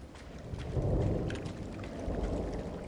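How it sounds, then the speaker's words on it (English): Low rolling thunder rumbles in the video game Firewatch, a steady moderate swell with a soft rain-like hiss and no voices. "I heard some thunder"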